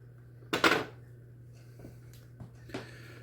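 A spoon pats and scrapes cake mix in a pan for a blueberry and lemon cobbler, one loud clattering burst followed by a few lighter taps, close and alone over a steady hum.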